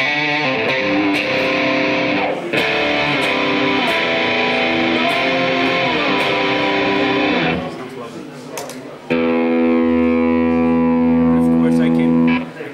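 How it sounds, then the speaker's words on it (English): A heavily distorted electric guitar plays thick, sustained chords with effects; the tone cuts briefly, then returns louder and grittier. "If I want more distortion, I just press the gain too."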